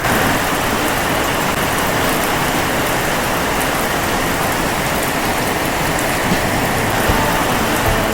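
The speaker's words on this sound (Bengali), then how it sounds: "আজকেও প্রচণ্ড বৃষ্টির মধ্যে আছি" Heavy rain pours steadily on a mountain trek near Kalipokhri on the Sandakphu route in bad weather, a dense, unbroken hiss of drops close by that stays loud and even throughout.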